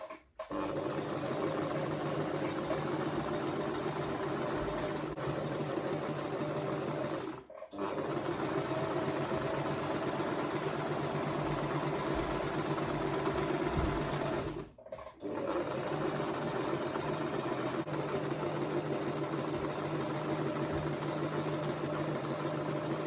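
A sewing machine runs a straight stitch down a length of fabric for gathering, a steady close whirring that continues for several seconds at a time, stopping briefly twice between long runs.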